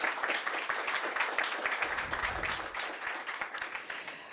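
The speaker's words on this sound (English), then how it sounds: "Ladies and gentlemen, another round of applause." An audience at the grand opening of a meditation museum applauds, a steady patter of many hands clapping at moderate distance that tapers slightly toward the end.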